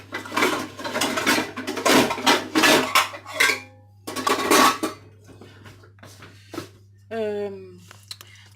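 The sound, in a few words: saucepan and cookware being handled for blanching courgettes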